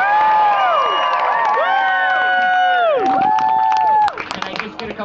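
An audience at an outdoor evening street show whoops and cheers loudly in rising and falling voices, a dense roar that holds for about four seconds, then breaks off into scattered shouts.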